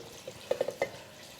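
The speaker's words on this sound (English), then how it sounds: "I'm just going to add some additional water." Water poured into a pot of rinsed, uncooked Great Northern beans already sitting in chicken broth gives a few quick splashes and drips, close and fairly quiet.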